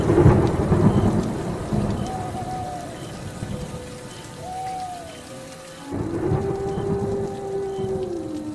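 Heavy unseasonal rain with thunder: a dense, steady downpour hissing across surfaces, with deep rolling thunder rumbling beneath it and faint sustained melodic tones drifting over the storm.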